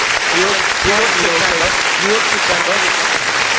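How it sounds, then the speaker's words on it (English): A round of applause breaks out at a talk show, dense clapping from a small group that runs steadily the whole time, with voices calling out over it. "Give yourself a round of applause, man."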